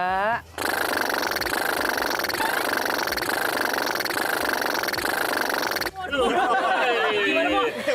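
A person imitates a puttering longtail boat engine with a loud, steady lip-trill drone for several seconds, then breaks off into chatter.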